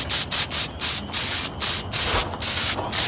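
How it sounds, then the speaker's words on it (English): Short bursts of an aerosol spray can coating a foam-and-wood Halloween graveyard prop, seven or eight quick hissing puffs in an irregular rhythm with brief gaps between them, loud and close, no voices. "So you just want to spot spray."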